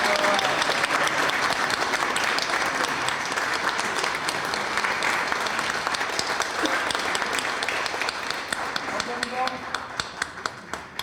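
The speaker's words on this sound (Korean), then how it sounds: "박수를 부탁드립니다" Audience at an inauguration ceremony applauding, loud dense clapping from a crowd sustained throughout, thinning into a few distinct claps near the end.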